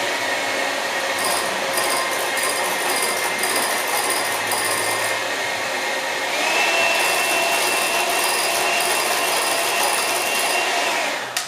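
Electric hand mixer whipping egg white for a quick mayonnaise: a constant close motor whine that rises slightly in pitch and intensity midway, running alone without speech.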